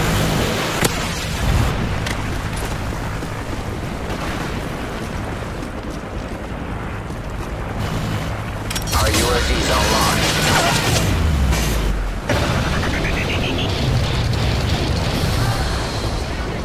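Predator missile strike in Modern Warfare 3 multiplayer on the Oasis map: loud, continuous rumbling explosion wash with wind-like roar, a sharp burst near the start and another surge of booming impacts midway, followed by a descending whine.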